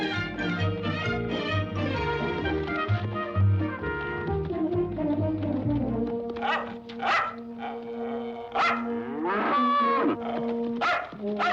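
A herd of cattle moos loudly and continuously while a corgi drives them in from pasture, and the dog's barks break through sharply and repeatedly amid the lowing.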